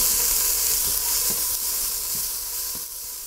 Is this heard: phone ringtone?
no